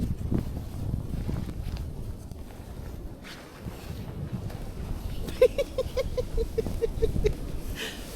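Strong wind roars across the microphone on Mt. Gozaisho on a snowy day, a steady low rumble with gusts throughout, a few faint clicks and rustles near the end.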